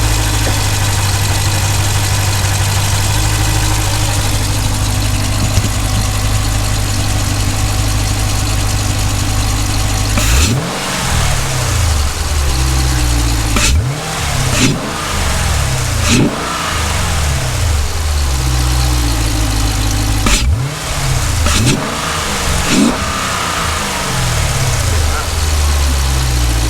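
A Jeep Grand Cherokee SRT 6.4 V8 warming up, with a steady low engine drone, then several revs and engine blips from about ten seconds on, close by with voices talking faintly.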